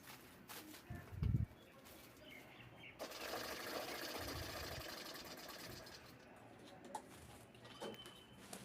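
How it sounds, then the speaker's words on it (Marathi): Sewing machine stitching the side pieces of a bag made from a saree's pallu, a steady mechanical whir for several seconds after a bump, with birds cooing faintly around it. "आता हे साईडचे पीस आपल्याला शिवून घ्यायचे आहेत"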